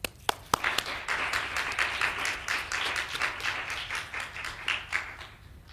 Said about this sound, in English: let's try the hand clapping thing while we welcome Saskia Kachel